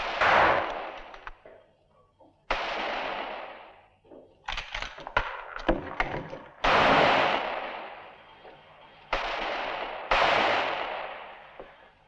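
Gunfire in a western shootout: several loud, close bursts of shots come in clusters separated by short gaps, each crack followed by a ringing decay.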